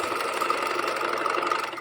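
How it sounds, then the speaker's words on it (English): A sewing machine stitching shorts fabric, a steady close mechanical whir with a fast, even rhythm running without pause. "we are going to start at the very edge of our fabric, back stitch, and then stitch, removing the pins as we go"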